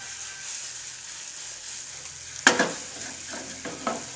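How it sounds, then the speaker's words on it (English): Mushrooms sauté in a pan with a soft, steady sizzle, then a sharp clatter of stirring about halfway through, followed by a few lighter scraping stirs. "You're just going to saute the mushrooms until they're dry"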